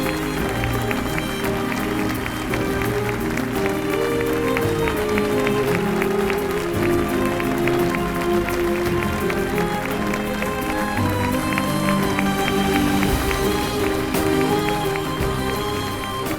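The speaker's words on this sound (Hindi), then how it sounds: "लोग खड़े होकर तालियां बजा रहे हैं।" A standing audience in a drama scene claps continuously for an honoured speaker. The applause is sustained and even throughout, partly blended under a prominent music score.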